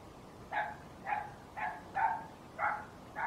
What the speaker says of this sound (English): My dog is going wild outside